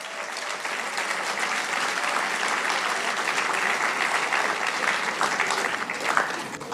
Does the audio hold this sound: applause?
yes